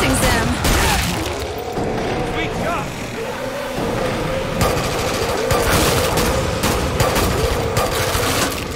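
Gunfire in Killing Floor 2 on the snowy Outpost map at Suicidal difficulty: sustained rapid shooting and booming bursts fill the whole stretch, loud and dense, with game voices speaking over the battle.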